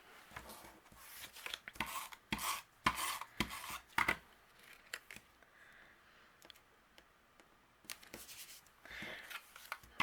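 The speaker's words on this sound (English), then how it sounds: "I'm just going to use my tape runner for this" A tape runner lays adhesive onto layered patterned paper and cardstock in quick repeated dry rasping strokes, some in rapid bursts, close and fairly soft.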